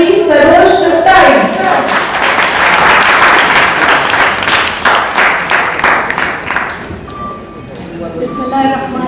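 A large audience at an evening literary tribute gives loud, dense applause to welcome hosts Khalid Farshori and Sharosh Chughtai, the clapping swelling near and full, then thinning toward the end.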